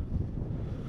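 Steady outdoor wind rushes and buffets against the microphone during a Yuneec Mantis Q drone flight into a headwind, a dense low rumble filling the whole moment without any voices.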